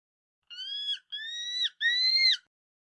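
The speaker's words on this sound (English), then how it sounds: "This is a eagle." Eagle calls: three clear, drawn-out whistling screeches in a row, each about half a second, bright and close against silence.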